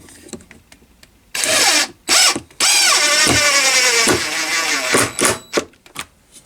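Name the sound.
Stanley FatMax impact driver driving a screw into plywood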